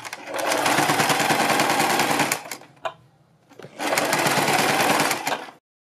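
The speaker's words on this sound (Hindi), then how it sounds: "हम इस हिस्से पर सिलाई लगाएंगे" A sewing machine stitches a neck strip on a garment in two long, fast, even runs, separated by a short pause with a brief click, loud and close.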